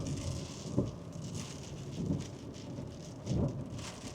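Sleet spattering against a car window on a dark morning, a steady soft hiss of icy patter with a few louder gusty bursts, close and continuous with no talking.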